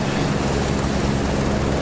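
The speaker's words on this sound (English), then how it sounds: "as the engine powers up, the environment around the chopper really reacts quite authentically" Helicopter engine powering up in a flight career-mode video game, a steady dense rotor-and-turbine roar filling the whole short stretch at constant loudness with no talk over it.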